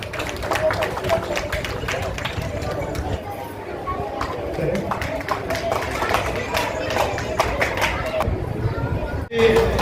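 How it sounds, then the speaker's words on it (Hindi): Vigorous audience clapping welcoming a guest at a Brahmin community cultural event for Parshuram's birth anniversary, a long continuous rattle of hands with crowd chatter and voices underneath, dipping briefly near the end. "जोरदार तालियों से स्वागत करें"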